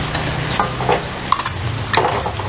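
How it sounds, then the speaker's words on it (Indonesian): A spoon stirs oregano, bay leaf and ground spices through a pot in a macaroni cooking class, giving a few soft scraping strokes over a low steady sizzle-like hiss, close and alone. "Ini biar kita aduk dulu."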